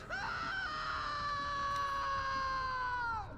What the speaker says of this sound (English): That was an incredible scream for a guy that fell like 1 foot to his death